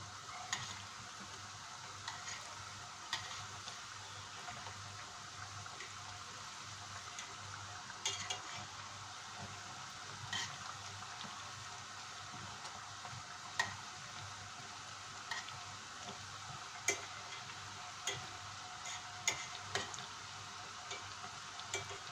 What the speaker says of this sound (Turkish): Bu şekilde sürekli karıştırarak kızartıyoruz.